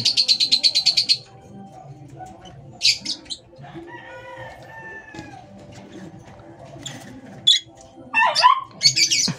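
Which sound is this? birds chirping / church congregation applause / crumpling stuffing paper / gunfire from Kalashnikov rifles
birds chirping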